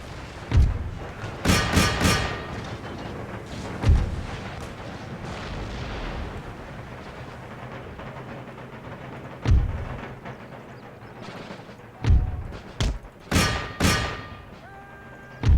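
Musket volleys and artillery fire in an Empire: Total War battle, with scattered booming shots and crackling volleys breaking over a low battlefield rumble, some close and sharp, others duller and farther away.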